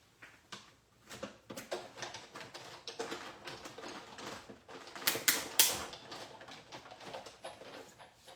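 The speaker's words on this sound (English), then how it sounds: "So let's go ahead and die cut those." A die cutting machine cuts paper pieces for snowy holiday papercraft, giving a quick run of dry ratcheting clicks and taps that swell midway and then settle, close and moderately loud.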